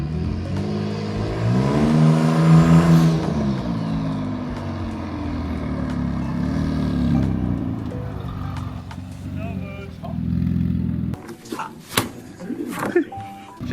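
An 800 hp single-turbo Kia Stinger revs loud and close, its rising engine tone climbing and then falling away, followed by a choppy, rough idle with crackling bursts. Voices talk over part of it.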